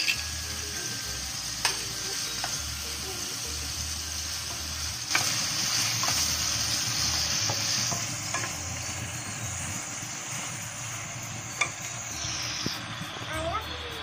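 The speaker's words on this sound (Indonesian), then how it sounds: "Kita aduk-aduk biar matang." Butter chicken frying in a pan while being stirred, a steady close sizzle with scraping spoon strokes and occasional sharp clacks against the pan, running continuously for several seconds.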